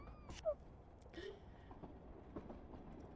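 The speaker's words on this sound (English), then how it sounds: "The train was now rattling its way through Mendrisio." A train rattles along the railway through Mendrisio in the Alps, giving a low, steady rumble with faint clicks and a brief squeal early on, heard from inside at moderate distance.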